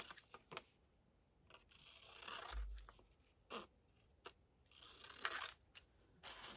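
Scissors snip through paper cut up for a collage weekly planner, in a string of short crisp cuts and rustles, close and quiet, with no talking.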